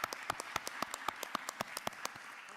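An audience at a Rockdale County Board of Commissioners work session claps for the chief strategy officer, a sparse, fairly quiet patter of separate hand claps in an uneven rhythm.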